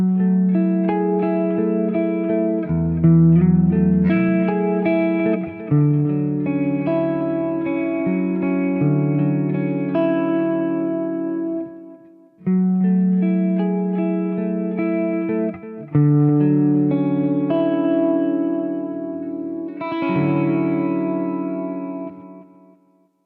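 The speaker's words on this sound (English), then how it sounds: "Yep, clean sound." Clean electric guitar through a Neural DSP Quad Cortex plays chord phrases with chorus-like shimmer and echo. The notes ring out in swells that decay and pause before resuming, with no voices.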